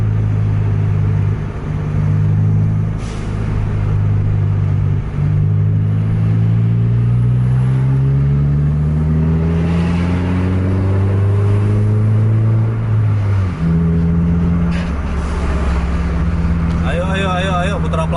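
Several intercity buses drive on a road crowded with trucks, their engines giving a loud, continuous low drone that rises and falls as they rev and shift. A voice talks over the rumble throughout.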